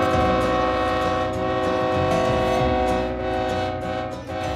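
A train horn blares in a long sustained chord, loud and near, over the rumble of rolling railcars, fading slightly toward the end with no speech.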